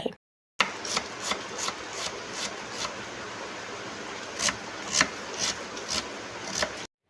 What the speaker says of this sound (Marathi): आता तोपर्यंत कांदा चिरून घेते आहे